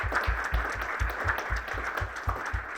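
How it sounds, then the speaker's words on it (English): Applause from the audience at a pharmacy creators' summit as a panel Q&A wraps up; moderately loud clapping with a steady, pulsing low thump roughly every quarter second running under it for about three seconds. "Can we have a massive round of applause?"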